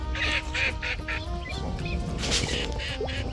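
Several ducks quack in short repeated bursts over a steady outdoor background at a pond during a duck hunt, fairly close, with no one talking.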